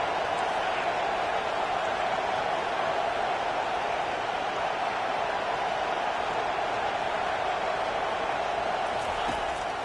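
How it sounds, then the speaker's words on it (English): A football stadium crowd roars at a Florida home game against Army, a dense, constant wall of noise that never lets up and stays loud throughout. "This crowd trying to make life miserable for this offense."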